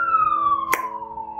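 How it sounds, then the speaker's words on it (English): A siren wails briefly outside, its tone sliding steadily downward as it passes, with a short sharp click partway through. "So you're going to hear a siren"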